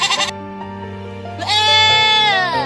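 A person imitates a goat with the voice, giving a short bleat and then a longer, wavering, nasal bleat that swells and holds before trailing off, close and loud, with no other talk.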